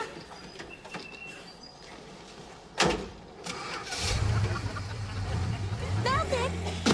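A car engine cranks and catches around the midpoint, then settles into a steady low idle that runs to the end, with a brief thud just before and faint background noise throughout.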